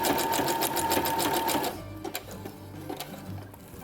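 A sewing machine stitches a pocket onto a Star Wars jumpsuit, running in a steady, loud whirring burst that stops partway through. Quieter handling clicks and the fabric being turned follow.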